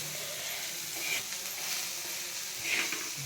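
Garlic and green chillies roast in a hot pan for a rustic village chutney, giving a steady close sizzle with soft stirring scrapes and no talk.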